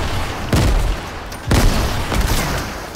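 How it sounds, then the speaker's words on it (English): Grenades going off in the Fortnite video game, three sharp booming blasts about a second apart, each followed by a brief rumbling tail over steady game background noise. "I'm throwing all kinds of grenades."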